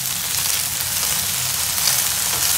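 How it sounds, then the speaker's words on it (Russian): Potatoes and chanterelle mushrooms fry in a pan, giving a steady, close, dense sizzle and crackle with no talking. "Грибочки жарятся, масочка роща, картошечка жарится вот."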